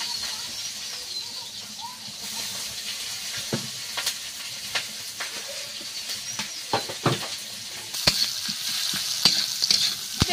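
Green chillies and onions sizzle steadily in the leftover oil from frying fish, with a continuous crackle and occasional stirring knocks and scrapes against the pan all the way through.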